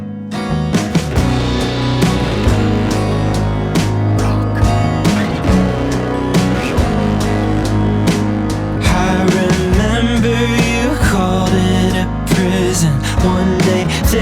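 Processed piano with its attack lowered so notes swell into a sustained, organ-like drone, dense and loud throughout with layered chords and no talking.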